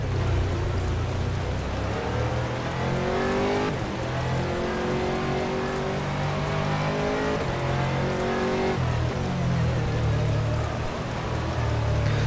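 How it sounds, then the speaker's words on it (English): Heavy rain falls in the rFactor racing game at Sepang, a steady broadband hiss running beneath the loud, close engine of an Aston Martin GT3 as it revs up and shifts through gears. "You can hear the rain getting heavier."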